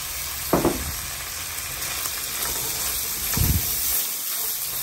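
Garlic, onion and carrots sizzle in rendered bacon fat in a pan, a steady soft crackle with two brief louder bursts as ingredients are stirred or added, no talk.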